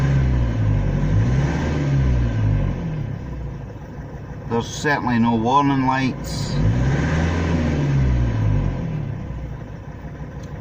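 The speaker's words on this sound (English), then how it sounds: "I've got it running. It seems to be revving okay." A van engine idles with a low, rumbling drone after an EGR cleaning, its pitch shifting as it revs up and settles back, while someone speaks briefly over it partway through.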